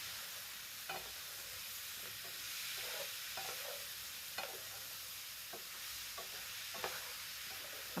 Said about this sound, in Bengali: এবার একটু নেড়ে দিচ্ছি মিক্সড করে নেব জলপাইয়ের সঙ্গে এগুলি সবগুলি মিক্সড করে নিচ্ছি ভালো করে